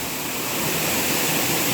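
Waterfall near a cave in a natural setting, a constant dense roar of falling water, loud and close, unbroken for under two seconds with no talking.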